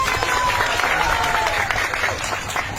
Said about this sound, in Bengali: সেই জন্য আমার পক্ষ থেকে তাদেরকে আন্তরিকভাবে শুভেচ্ছা এবং একটা হাততালি